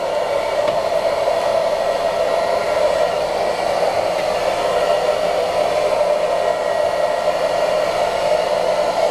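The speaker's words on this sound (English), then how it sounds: "I'm wrapping it around my head with the brush in the dryer." A hair dryer blows steadily and loudly at close range while hair is styled with a brush, its constant whirring hum unbroken and without any talking.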